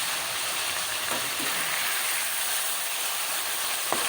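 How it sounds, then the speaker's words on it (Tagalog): Garlic and onion sautéing in a hot pan for a Filipino mechado, giving a steady, loud, close sizzle that runs throughout with a couple of brief stirring clinks and no talk. "gigisa natin ating bawang at sibuyas. Sabay-sabay ko nilagay."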